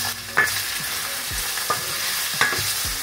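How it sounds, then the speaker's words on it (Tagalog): Potatoes and carrots frying in hot oil in a pan, a continuous sizzle broken by several sharp clacks of a utensil stirring and scraping the pan. "we will going to fry first our potatoes and carrots"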